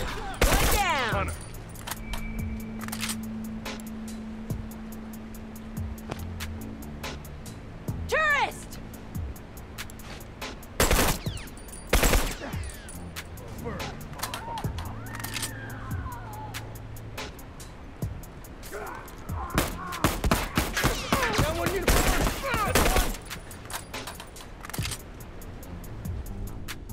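Bursts of automatic and single gunfire in a first-person shooter match, scattered sharp cracks and rattling volleys through the clip alongside game sound effects, clicks and intermittent voices.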